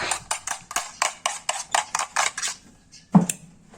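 A utensil beats one egg seasoned with a little salt in a bowl: about ten quick, even clinks against the bowl, then a pause and one louder clack, close and with no talking.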